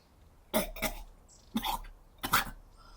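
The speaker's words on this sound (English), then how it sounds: "He falls to the ground, coughing violently for several seconds before spitting it up." Several harsh, violent coughs from someone who has just choked, in quick bursts, close and loud, with short pauses between them.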